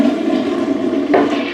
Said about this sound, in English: Give it a nice Smurf flush